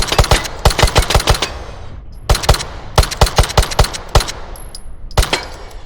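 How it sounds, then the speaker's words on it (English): Rapid metallic clacks from a Glock pistol fitted with a side charging handle being racked AK-style, loud and close, in quick bursts of several sharp snaps separated by brief pauses. "So if you feel like doing an AK rack on your Glock, there you go."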